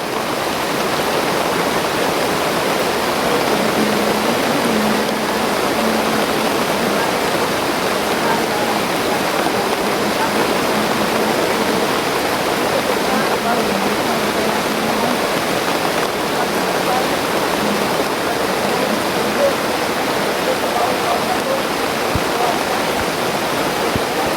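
Rushing water of a stream runs steadily and loudly from start to finish, a dense continuous wash with faint voices now and then beneath it.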